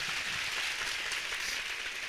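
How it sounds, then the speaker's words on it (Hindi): An audience at a church gathering applauds to thank God, a dense, steady burst of clapping at moderate loudness with no voices over it. "जोरदार ताली बजा के परमेश्वर का धन्यवाद है"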